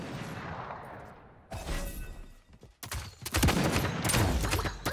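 Sniper rifle and other gunfire in the video game Realm Royale crackles in sharp bursts, a lone shot followed by rapid clustered cracks that grow denser and louder toward the end.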